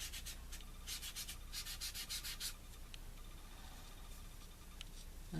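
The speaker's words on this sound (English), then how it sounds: "I'm going to dab it on and then rub it in." Soft pastel color rubbed into paper by hand, a quiet close scratchy rubbing made of quick repeated strokes early on, then slower smearing, with no voices.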